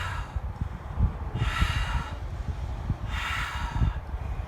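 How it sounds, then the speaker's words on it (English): Several forceful breaths are pushed out through the mouth during a guided yoga session, as two broad breathy whooshes spaced apart over a low background rumble, with no talking. "Exhale out the mouth, 3 audible exhales."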